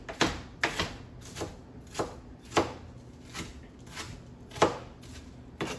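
A knife chops a medium onion on a board in about ten sharp, evenly spaced thuds, loud and close, with light scraping between strokes and no talking.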